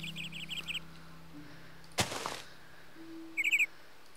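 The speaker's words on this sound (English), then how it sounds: "Birds, you can hear the birds now." Short bursts of high chirping birds in the Minecraft Twilight Forest mod come in small clusters, with a brief rustling burst in between, over a steady low hum.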